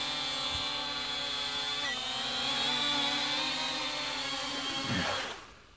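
An Eachine E58 drone straining to fly while carrying added weight, its steady high-pitched propeller whine loud and close for most of the time before cutting off abruptly near the end.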